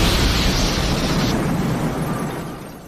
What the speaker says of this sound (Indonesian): Karena ledakan itu, tembok di ruangan itu pun jebol.